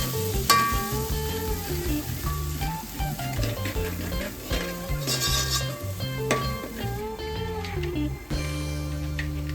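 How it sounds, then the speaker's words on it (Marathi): Spiced masala paste with Kashmiri red chilli powder fries in oil for Malvani-style crab masala, a steady sizzle under stirring and scraping, with a continuous tonal hum running throughout. "हे सगळं व्यवस्थित परतून घ्यायचं आहे आपल्याला तेलामध्ये"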